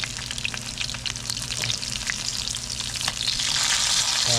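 Four small fish fry in a pan at home, a steady dense sizzle with scattered crackles and pops that grows louder toward the end.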